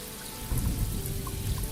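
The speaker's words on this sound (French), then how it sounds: "Plic, plic, faisait la pluie qui tombait de plus en plus fort." Steady rain patters against a surface in an audiobook sound effect, a continuous close hiss of drops with a low rumble underneath and no voices.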